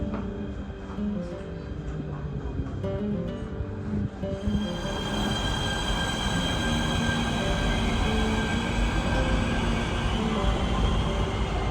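Nuremberg U-Bahn metro train runs steadily, a continuous loud rumble and whine of wheels on rail that swells and brightens partway through, heard from inside without talking.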